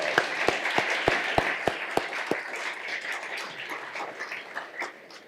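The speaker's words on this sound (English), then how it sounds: "please join me in giving her another round of applause" Audience applause at an early education conference event, starting with several sharp, distinct claps in a steady rhythm that blend into a sustained wash of clapping from a crowd, gradually thinning toward the end.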